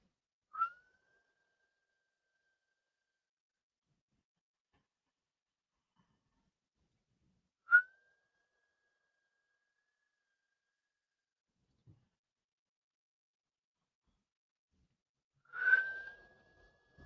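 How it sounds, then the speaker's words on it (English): Three separate breathy, whistling open-mouth exhales from a yoga breathing exercise, each a short high tone, spaced several seconds apart with silence between; the last is longer and fuller. "breathe out with an open mouth, like a whistling"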